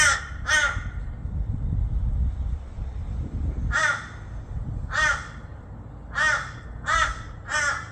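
Crows caw in short harsh bursts: a quick pair near the start, then a string of single and paired caws spaced about a second apart, loud and close over a low rumbling background.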